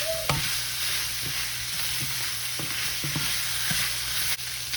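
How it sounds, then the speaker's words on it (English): Onions and peppers sizzle steadily in a hot skillet for a beef and cabbage dish, close and continuous, while a utensil scrapes and taps the pan in several short strokes. "The onions and peppers cook for about 3 to 5 minutes."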